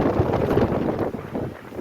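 Strong wind rumbles against the microphone in a continuous low roar, close and fairly loud, with no voices.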